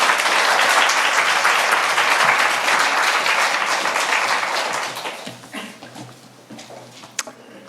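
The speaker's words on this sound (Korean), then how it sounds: "교수님 나오실 때 사랑과 축복의 박수로 함께 환영하겠습니다." A church congregation claps to welcome a theology professor to the pulpit at a Sunday service, a thick sustained round of applause that gradually thins and fades out near the end.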